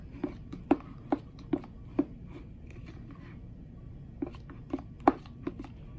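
Slime ingredients mixed in a container, with sharp close taps and knocks of a utensil against the sides in uneven bursts, some louder strikes standing out over a quiet background.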